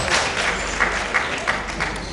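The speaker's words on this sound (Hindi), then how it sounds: "तालियों से इस्तकबाल किए जनाब मंजर भोपाली" Audience applause welcoming the poet Manzar Bhopali at an Urdu poetry gathering, a steady wash of clapping with a few louder bursts standing out over a low hum.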